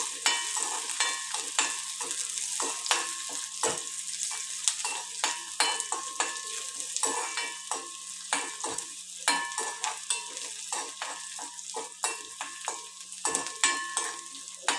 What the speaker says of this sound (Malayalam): പാകമായിട്ടുള്ള മീനിലേക്ക് ഈ മൂത്ത ഉള്ളി നന്നായി ചുവന്ന കളറായിട്ടുള്ള മൂത്ത് വരുന്ന ഉള്ളി അതിലേക്ക് ചൊരിയാം